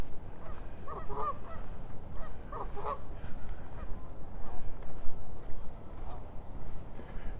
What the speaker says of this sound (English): The geese are having a chat about conditions.